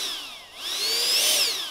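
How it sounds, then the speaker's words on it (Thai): A DIY radio-controlled car fitted with a turbo, its high-pitched whine rising and falling in pitch as it spools up, loud and close, no talk. "เดี๋ยวมาลองฟังเสียงเทอร์โบ"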